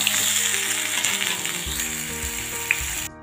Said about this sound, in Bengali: এবার আমি এর মধ্যে ঝিঙেটা দিয়ে দেব।